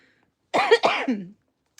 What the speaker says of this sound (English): I had to cough just because